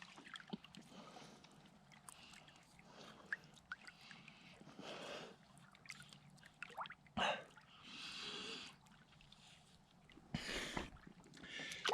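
Sucking water through a LifeStraw filter on a hike-in camping trip produces wet slurping and gasping draws in short bursts, with a couple of louder sucks and breaths between quieter stretches, close to the mic.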